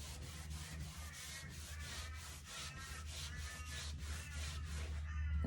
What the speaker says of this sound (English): we want to get a clean lint-free cloth and just wipe back any excess